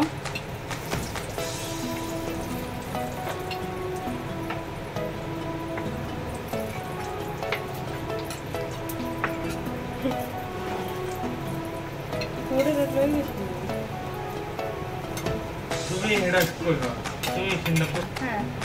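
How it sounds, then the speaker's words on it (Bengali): Chicken toppers fry in oil on a stove with a steady soft crackling sizzle like light rain, faint clinks of cookware, and a voice talking over it. "এবার আমি চুলায় তেলের মধ্যে দিয়ে দিলাম।"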